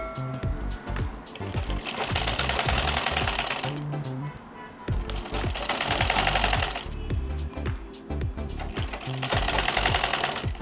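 A sewing machine runs in loud, fast, steady bursts while stitching a pocket seam on Ankara fabric shorts, with brief pauses between runs and close mechanical clatter.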